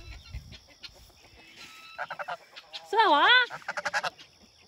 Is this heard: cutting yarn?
no